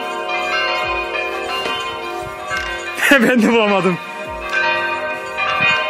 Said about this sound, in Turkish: Duyuyorsunuz. Çan döktürüyor ortalığa.